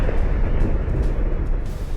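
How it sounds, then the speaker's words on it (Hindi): A large oil refinery explosion in Port Arthur, Texas, sounds as a loud, continuous low rumbling roar that holds steady throughout, with no voices. "अमेरिका के राज्य टेक्सास में 23 मार्च को एक बड़ी तेल रिफाइनरी में धमाका हुआ और फिर आग की भयानक लपटें उठने लगी"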